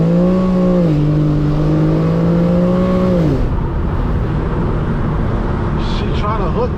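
A rear-wheel-drive Infiniti G37 on back roads, running on bald tires, gives a loud, steady engine drone from inside the cabin for about three seconds before the pitch sags and fades into road rumble.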